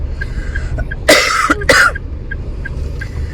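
Two sharp, close coughs in quick succession over a quiet background with faint chirping tones.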